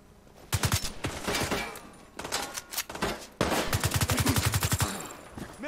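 Rapid automatic gunfire from the shooter video game Tom Clancy's The Division 2, firing in several sustained bursts with short pauses between them, loud and close throughout.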